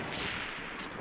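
Continuous gunfire in a military-style shooter video game, a dense, noisy, steady barrage with no clear individual shots, fairly loud throughout the short moment.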